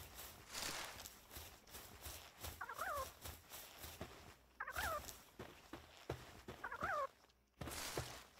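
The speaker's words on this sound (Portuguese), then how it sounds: "Ah, galinha." A chicken creature in the video game Palworld gives three short clucking, gobbling calls spaced a couple of seconds apart, heard over soft footstep-like clopping and game ambience.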